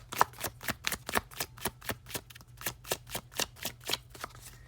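Tarot cards riffle-shuffled in a steady rhythm of about a dozen crisp, close bursts, alone with no talking, during a twin flame card reading.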